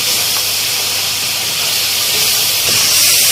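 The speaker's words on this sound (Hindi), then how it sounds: "और ये भुनना बिल्कुल स्टार्ट हो चुका है।" Masala being fried in oil in a pan for besan gatte curry gives a steady, loud hiss and sizzle throughout, with no talking.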